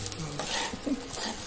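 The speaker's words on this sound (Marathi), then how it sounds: "तांदूळ असा सुट्टा सुट्टा होईपर्यंत ह्याला परतून घ्यायचा" Rice stirred and sautéed in a pan for a festival thali, giving a soft scraping stir with light sizzling and a few clinks of a utensil against the pan, close and moderately quiet.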